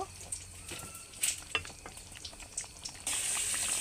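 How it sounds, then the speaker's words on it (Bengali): Tilapia fish curry bubbles and sizzles in a pan, a low continuous simmering crackle with scattered pops, growing to a denser, louder hiss toward the end. "এবার কিছুক্ষণ ফুটতে দেব"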